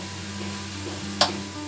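Spice paste being cooked down in a pan to dry out its water for a grilled spiced chicken dish, a constant soft sizzle with one brief sharp scrape of a utensil.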